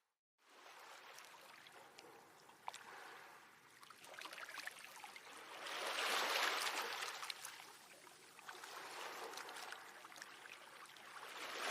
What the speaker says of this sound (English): Let yourself relax with the gentle sound of the waves in the background.